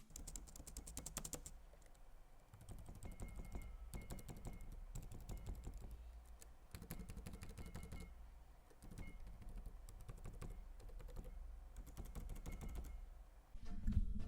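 Keys clatter steadily on the mechanical-style SteelSeries keyboard of an MSI GP70 2PE Leopard laptop, quick clicky presses in bursts with brief pauses, close and clear with no talking.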